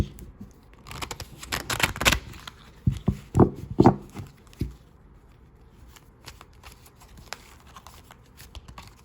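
Close riffle-shuffling of a card deck, a few quick bursts of flicking and snapping in the first half, then near quiet.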